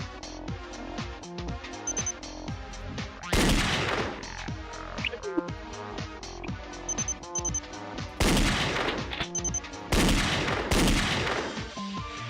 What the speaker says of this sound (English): The generic gunshot.